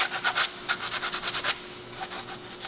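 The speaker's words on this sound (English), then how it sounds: "clean up the edges and take the burr out" Cut edges of radiator hose tubing are deburred by hand, producing a quick series of about a dozen rhythmic rasping scrapes, close and moderately loud, followed by a couple of softer strokes.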